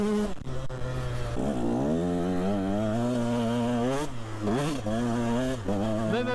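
A 125cc two-stroke dirt bike, a 125 SX, revs hard while being ridden, its engine note climbing and falling through several rising sweeps, loud and close with no speech over it.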